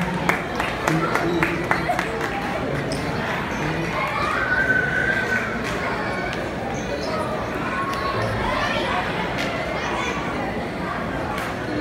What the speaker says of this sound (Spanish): Otro aplauso para el octavo